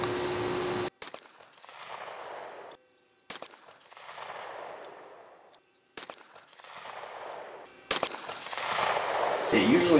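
A 1911 pistol fires from a rest during accuracy testing at an indoor range, three sharp, loud single shots spaced a couple of seconds apart, each followed by a decaying echo, with another burst of noise at the end.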